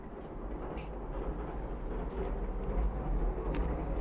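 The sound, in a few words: train passing on railway near Okazaki Castle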